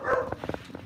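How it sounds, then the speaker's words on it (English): Jack Russell terriers barking in short, rapid yaps, one louder burst up front followed by several quicker, slightly quieter barks, close by. "just the barking and the running and the barking"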